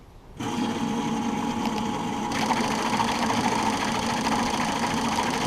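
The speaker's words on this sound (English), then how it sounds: "We'll run them in the machine and see how they flow before cleaning" JECS side-feed fuel injectors run on a flow test machine, a dense mechanical rattling buzz that starts abruptly and grows fuller partway through, steady and close with no talk.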